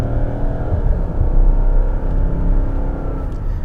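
A Mercedes S550 or Lexus LS 460 luxury sedan engine while driving, a steady, smooth low hum and road rumble, close and fairly loud, holding an even level throughout with no speech.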